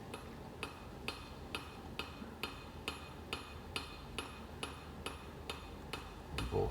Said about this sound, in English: I'm going to use the cross peen to pull that heel out a little bit, just to square up the back of that